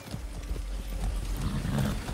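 Horse hooves in the video game Far Cry 6, a rapid clip-clop of a ridden horse over a low rumbling background, steady and close, with no voices.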